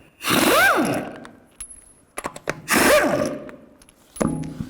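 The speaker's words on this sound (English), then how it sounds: "I'm going to take a 21mm socket and remove the lug nuts." Lug nuts come off the front wheel of a 1996-2004 Nissan Pathfinder with a 21mm socket: two loud, close bursts of a whirring, rattling power tool spinning, then a shorter third burst, with no talking.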